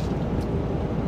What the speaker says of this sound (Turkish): Arabanın sesi bile kendine geldi ya.